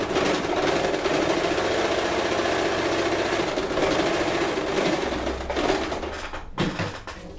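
An Elgin Genius sewing machine stitches cotton fabric with a steady, fast mechanical whir and rapid rhythmic needle clatter. Toward the end the running slows and the sound breaks up.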